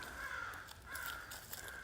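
Crows cawing along a walking trail beside streams and bridges, two harsh drawn-out calls spaced about a second apart, fairly faint and distant in the open air.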